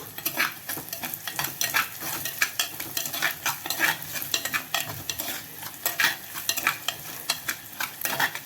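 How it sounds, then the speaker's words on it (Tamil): Onions frying with salt in a pan crackle and sizzle close by while a spoon scrapes and stirs them in quick, repeated strokes, a busy, dense texture without speech. "வெங்காயம் வதங்கிடுச்சு"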